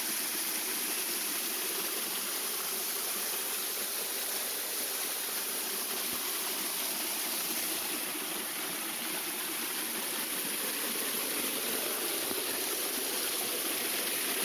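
Water pours over Holt's Hidden Falls at Cedar Lakes Botanical Gardens in Williston, Florida, close by, with a dense, steady hiss and roar that holds unbroken.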